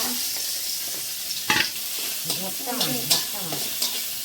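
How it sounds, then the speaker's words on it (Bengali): Fish frying in a pan at home, with a steady close sizzle and bursts of spatula stirring and scraping, while a voice murmurs faintly in the background. "মা এখানে করছে মাছ ভাজা"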